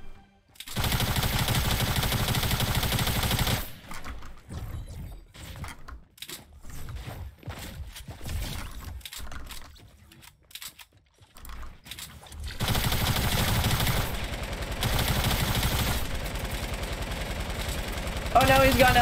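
Light machine gun fire in a video game, long loud rapid-fire bursts at the start and again near the end, separated by a quieter stretch where a person talks.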